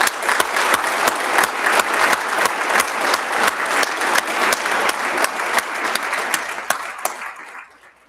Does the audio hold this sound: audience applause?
yes